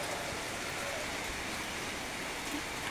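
Rain falls in an even, constant hiss with no breaks, soft and diffuse, and no voices over it.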